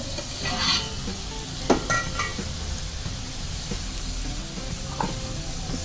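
Garlic sizzles and fries in hot oil, turning reddish, with a steady close crackle throughout and a few faint clinks of a stirring spoon against the pan.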